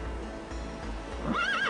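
A horse whinnies near the end, a clear rising and falling neigh close by, preceded by a low background rumble and faint hoof sounds.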